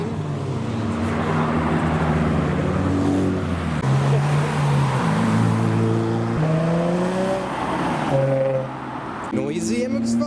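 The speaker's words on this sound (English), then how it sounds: "Noisy MX-5s?" Loud Mazda MX-5 sports cars rev and drive past at a Japanese car meet, engine notes rising and falling in quick succession with a brief lull near the end, voices talking underneath.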